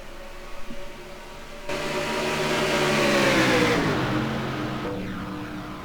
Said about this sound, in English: Green flag is out. We're racing at Daytona.